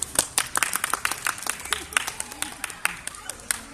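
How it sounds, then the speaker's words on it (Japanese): People clap for a winning under-third-grade youth football team before a hero interview, a quick patter of close, light claps from a small group, with faint voices underneath. "拍手。"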